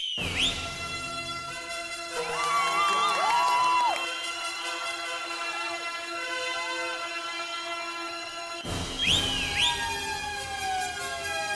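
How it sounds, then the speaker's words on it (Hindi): A referee-style whistle sounds twice in a comedy household scene, one short shrill blast at the start and another near the end, with a sustained tonal musical bed running between them. "गलती से 2 बार सीटी बज गई।"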